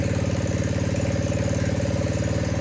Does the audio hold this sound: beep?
no